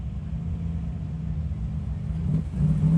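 A 1974 Rum Runner Rally Radial drag car sits near the line at a Sick Summer drag racing event, its engine giving a steady loud rumble that swells into a rising rev toward the end, with no voices over it.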